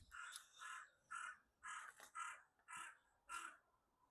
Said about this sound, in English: Oh, noisy crow.